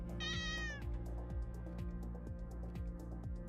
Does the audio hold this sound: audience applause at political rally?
no